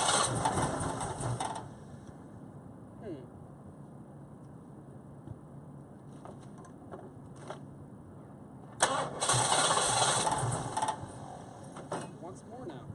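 A car engine converted from a carburetor to Holley Sniper EFI fuel injection cranks and catches, running briefly before cutting out, then fires again for another short burst of revving, heard up close without talk.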